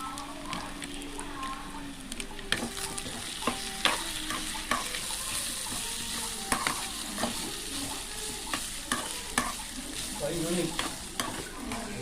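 Grated coconut fries in coconut oil for a village-style Kerala sambar, crackling steadily while a spoon scrapes and stirs the pan in repeated knocks; voices talk in the background.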